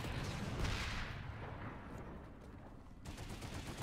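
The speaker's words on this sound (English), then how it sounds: "Shotgun shooters outside." Enemy shotgun fire in the video game Horizon Zero Dawn sounds as a faint, continuous spray of distant gunfire bursts with no pause for talk.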